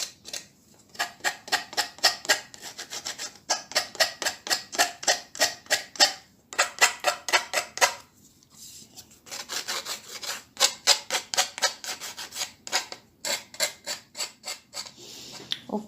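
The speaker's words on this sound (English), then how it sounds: "this is how it will look after sanding it nice and proper" A decoupaged wooden keychain holder is hand sanded with paper, giving steady rhythmic rasping strokes in quick bursts, close and fairly loud, broken by brief pauses with no talking.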